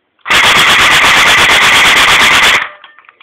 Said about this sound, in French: Je vais vous faire tester la cadence de tir.